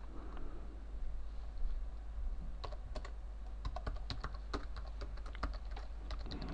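Keystrokes on a computer keyboard while entering an R command, a steady run of sharp clicks in quick uneven bursts, close and fairly quiet over a low background hum.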